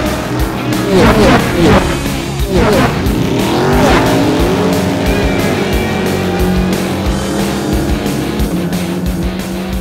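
Animated race cars roar off the start line together with tire squeals and skids, engines screaming close by and then settling into a sustained racing drone, with voices heard over the noise.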